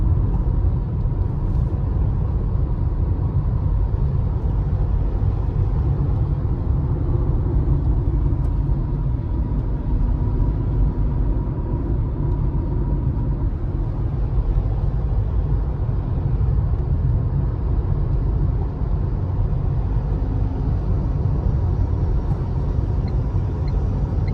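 A Tata Punch AMT car driving on the road, heard from inside as a steady low engine and road rumble with constant tyre noise throughout, no voices.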